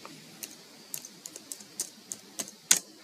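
Keys tapped on a computer keyboard while entering an Aadhaar number: about a dozen separate, unevenly spaced clicks, close and fairly quiet, ending on one sharper, louder keystroke, with no talking.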